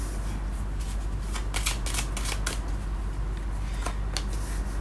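Tarot cards are shuffled and handled with a steady, dense riffling and flicking that runs throughout, close and continuous, with brief sharper card snaps.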